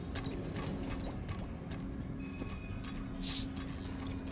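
A horse's hooves clip-clop steadily at a walking pace in the video game Lost Ark, moderately loud over a constant ambient background.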